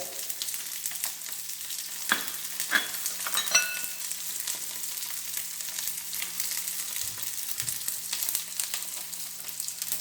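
Ginger, garlic and coconut sizzle steadily in a small kadai, an even crackling fry with a few louder pops and stirring knocks, close and continuous.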